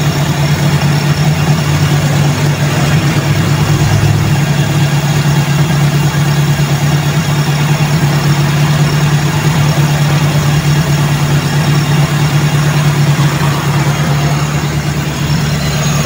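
A Toyota Corolla 4AF carburetor engine idles while warming up from a cold start, a steady close-up drone with a constant low hum and even mechanical rumble throughout, no talking.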